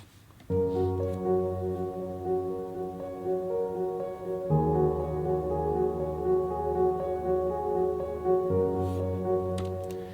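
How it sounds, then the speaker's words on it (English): Sustained piano chords from a chord-progression track in Logic, for an ambient piece, ring out in layered, steady harmonies, shifting to a new chord twice and holding each one evenly at a moderate level with no voices. "Let's take a look at first this very first track that is called Piano Chords"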